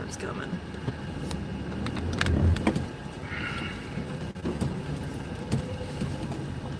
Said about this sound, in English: Oh, car's coming.